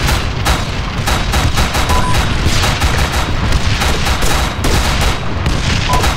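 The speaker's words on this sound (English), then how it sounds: "Enemy fire!" Dense, loud gunfire in the military shooter Arma 3, with rapid overlapping rifle and machine-gun bursts and booms filling the whole stretch without pause.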